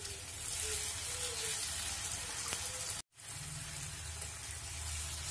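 Four whole, uncut green chillies fry in paneer masala in a pan, giving a steady, close sizzle that is briefly cut off near the middle before resuming.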